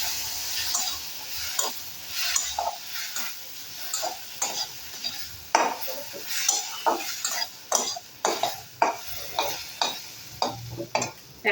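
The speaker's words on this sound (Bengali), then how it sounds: "এখন ভালো করে একটু ভেজে নেব।" Ridge gourd with poppy seed paste fries in a pan, a soft steady sizzle broken by repeated scraping stirs of a spatula, close and without talk.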